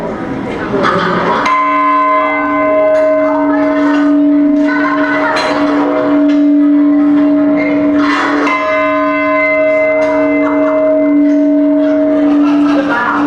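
A large campus bell rings out loud and close, with repeated strong strokes whose sustained tones hang and overlap for several seconds, while people's voices are faintly heard around it.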